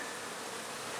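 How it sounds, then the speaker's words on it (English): Honeybees swarming around busy hives and new splits in an apiary, a steady, dense buzzing hum that fills the whole moment without any voices. "look at the bee activity we've got going today"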